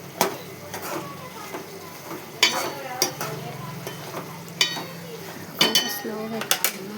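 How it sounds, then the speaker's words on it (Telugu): A spoon stirs chili powder into pieces in a metal pan, clinking and scraping in repeated sharp knocks over a soft background sizzle. "కారం 2 స్పూన్లు కారం వేసుకొని కలపాలి బాగా."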